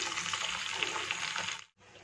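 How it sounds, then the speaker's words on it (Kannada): Water poured into ground masala in a pan makes a continuous splashing rush that stops abruptly near the end, followed by a quiet simmer. "ಸ್ವಲ್ಪ ನೀರನ್ನ ಸಹ ಸೇರಿಸ್ತಾ ಇದ್ದೀನಿ."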